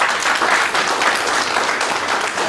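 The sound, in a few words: audience applause after a session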